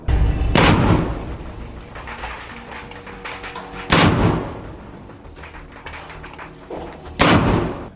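Artillery shell explosions in Khan Yunis, Gaza: three heavy booms spaced a few seconds apart, each a sharp loud blast followed by a long rumbling decay, with a low background rumble between them.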